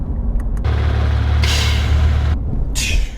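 A Porsche 911 GT3 Touring lowers onto its suspension with sharp bursts of released air: two quick hisses, then a longer loud blast over a low idling rumble, and a final hiss near the end.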